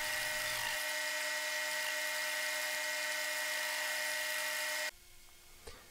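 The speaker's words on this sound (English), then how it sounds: "I used the bandsaw itself as a lathe to turn the wheels true." A bandsaw runs at a steady high-pitched whine while turning MDF wheels true, used as a makeshift lathe, loud and continuous for most of the clip before cutting off abruptly near the end.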